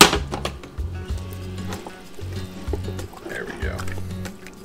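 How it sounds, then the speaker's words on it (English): Water is poured into a thick duck gumbo in a pot, a close, gurgling splash that comes in uneven bursts while someone talks over it. "So we'll add just a little bit more water."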